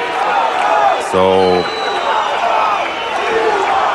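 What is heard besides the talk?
concert crowd shouting "We want more"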